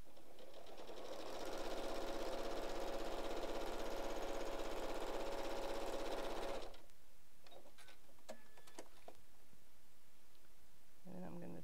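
Sewing machine top stitching quarter-inch seams on a small fabric purse, a steady whirring run of about five seconds that stops abruptly, followed by faint handling clicks and rustles.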